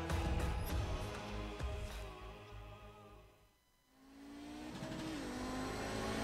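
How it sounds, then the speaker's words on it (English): GSRC Audi race car lapping Sonoma Raceway in iRacing, engine loud and close, revving high, dropping off briefly, then climbing again through the gears with a rising whine. "we're in the GSRC Audi, so let's do a lap around Sonoma"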